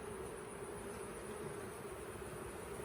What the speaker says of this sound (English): This one right here has a little more, a few more bees on it.